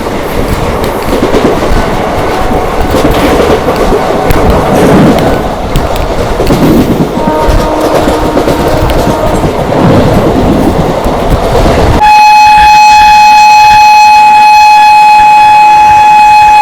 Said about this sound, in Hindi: इंदौर हावड़ा शिप्रा एक्सप्रेस।